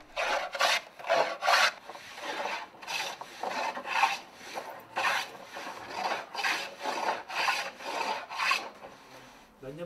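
Hand-shaving an aged paulownia wood board, likely for an instrument soundboard: repeated close rasping strokes in an uneven rhythm, each a bright scraping rub, with no talk.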